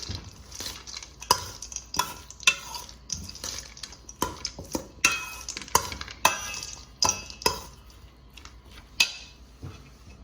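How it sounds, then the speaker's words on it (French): A spring salad with julienned cucumber gets tossed in a bowl, with irregular close clacks and scrapes of utensils against the dish and soft wet rustling between them, no one speaking. "On va mélanger le tout."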